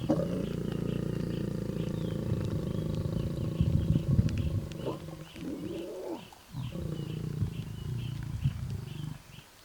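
A male lion gives deep, rumbling grunting roars, low and sustained, with a brief pause before the rumbling resumes; moderately close with faint bird calls behind.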